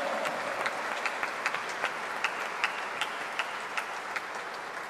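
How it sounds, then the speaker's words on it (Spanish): A church congregation at Sunday Mass claps together in a soft, even patter of applause from a moderate distance, steady throughout with scattered sharper individual claps standing out. "Démosle un aplauso a ella."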